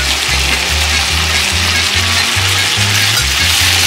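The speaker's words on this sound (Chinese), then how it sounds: "大火倒入辣椒，" Chili peppers and pork stir-fry over high heat, giving a loud, steady sizzle and hiss that stays constant, with a rhythmic low pulsing underneath.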